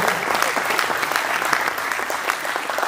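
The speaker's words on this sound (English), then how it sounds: "you can clap, that's all right" An audience claps at a Gazoo Racing presentation on the GR Supra and GR 86, with steady, fairly loud applause throughout.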